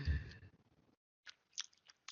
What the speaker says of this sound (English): our listening audience can suffer through my chewing